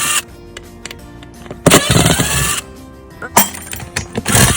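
A power driver whirs in bursts, backing screws out of the metal brackets under a bus seat bottom, with rattling and clanking between runs, close and loud.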